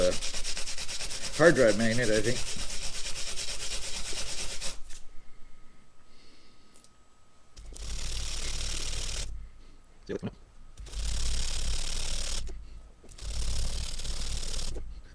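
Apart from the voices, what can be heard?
sanding small metal carburetor part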